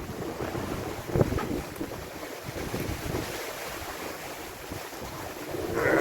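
Sailboat moving at about 9 knots on the open Pacific, with steady rushing wind against the microphone and continuous water wash along the hull, loud and unbroken throughout.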